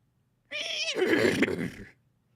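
A man imitates a horse neigh with his voice: a rising whinny that breaks into a rough, shaky trailing cry, about a second and a half, close and loud against near silence.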